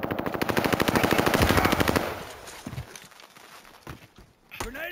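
Automatic gunfire rains down from a tower in the video game Warzone: a fast, steady string of loud shots for two seconds, then scattered, quieter single cracks and thuds.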